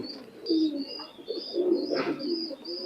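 Pigeon of an imported high-flying bloodline cooing in soft repeated phrases, close by, with brief chirps and light background noise and no talk.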